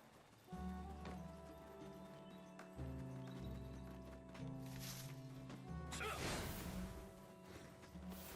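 Horse hooves clip-clop steadily in Black Desert Online, a ridden mount trotting at a regular rhythm amid game background sounds, with a whinny and a whooshing swish near the end; no one speaks.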